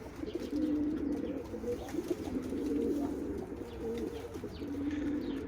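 Several male pigeons coo in courtship in low, rolling phrases, repeating steadily and close by, with faint background noise and no talking.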